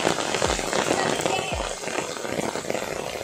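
Heavy rain pours down in a steady broadband rush, with a couple of low thumps and splashy knocks standing out near the microphone.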